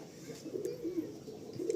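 Fulsira pigeons with blue beaks and blue bands, a pair held for sale, cooing softly in a few low throaty murmurs close by, fairly quiet, with faint background noise.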